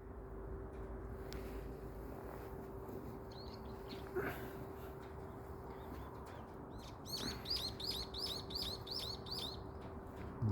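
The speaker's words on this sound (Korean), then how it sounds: "전주위에는 새가 울고 있고요" Small birds chirp near a utility pole outdoors, with a few faint calls early on and then a rapid, repeated run of bright tweets in the latter part over a low steady background hum.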